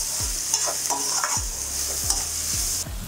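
Two medium onions fry in leftover oil in a kadai, sizzling steadily while a spoon scrapes and stirs in a rhythm of about six strokes over a few seconds, close and without talk.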